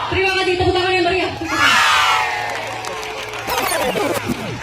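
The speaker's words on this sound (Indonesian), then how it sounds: "tepuk tangan yang meriah" A large crowd at a solidarity gathering cheers and yells in a loud, dense roar, with shouting voices rising and overlapping, swelling midway and continuing as a sustained din close by.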